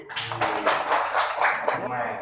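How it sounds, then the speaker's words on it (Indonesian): Students in a classroom clap for a classmate, a short burst of brisk, uneven applause heard close by with voices mixed in. "Oke, terima kasih tepuk tangan buat Rifki."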